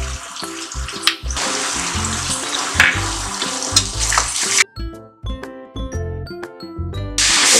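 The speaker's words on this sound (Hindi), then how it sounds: "प्याज को भून देंगे" Onions fry with salt in a pan for vegetable tehri, a continuous sizzle under backing music for the first half before the frying noise drops away and only the music remains.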